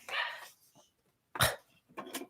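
A puppy gives a few short, sharp barks and yips in separate bursts, fairly close and moderately loud, with quiet gaps between them.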